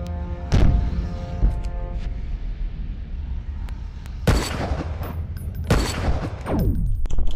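Sniper gunshots ring out in the video game SNIPZ. Three or four sharp, loud reports with echoing tails are spaced across the clip, one early and the rest clustered near the end, over a low game background.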